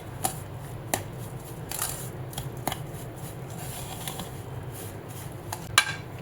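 Half a cup of yogurt and salt being mixed in a bowl for farali idli, a string of light scraping and clinking spoon strokes against the bowl at an irregular pace, close by and fairly quiet.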